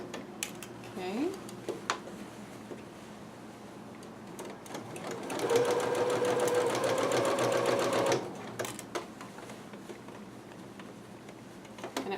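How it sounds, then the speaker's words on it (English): Sewing machine stitching kimono fabric, a brief back stitch at a corner, runs in a steady rapid burst of about three seconds amid quieter handling noises. "I usually like to back stitch just a hair in those corners."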